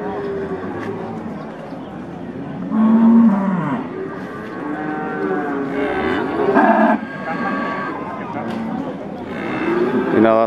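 Large Limousin cattle low and moo at the busy Paingan cattle market, with several long, close calls rising over someone talking and the general murmur of the livestock market.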